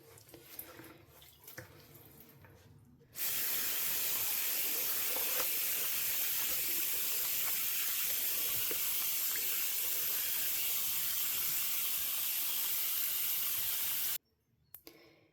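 Tap water gushes steadily into a basin to soak a brushed alpaca and silk sweater after a little wool wash is added, a loud continuous hiss that starts abruptly and stops near the end, with quiet handling noises before and after.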